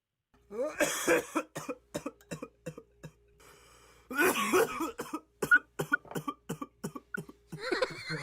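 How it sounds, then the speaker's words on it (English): A person coughs repeatedly in short, close bursts, with brief pauses and breaths between the fits. "that's a wimpy ass cough"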